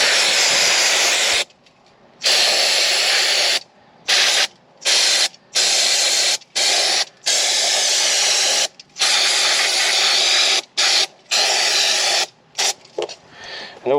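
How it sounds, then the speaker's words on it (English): Short bursts of brake cleaner hiss from an aerosol can onto the rear brakes of a Willys jeep, about a dozen loud, close sprays of uneven length separated by brief silences, with no talk. "Got a can of brake fluid, brake cleaner. I'm just going to give a good dousing there."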